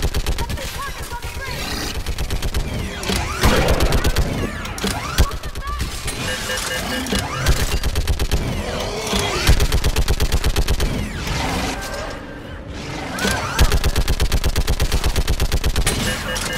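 Rapid mounted-gun fire from the Mass Effect 3 battle on Thessia, a loud, near-continuous burst of shots lasting throughout, layered with game effects and battle noise.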